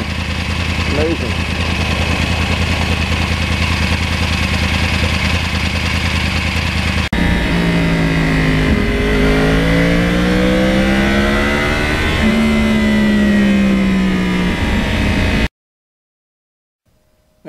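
A 2009 Yamaha R1 crossplane motorcycle engine with 32,000 miles idles with a steady low rumble, then revs up and down in rising and falling sweeps, loud and close, before cutting off.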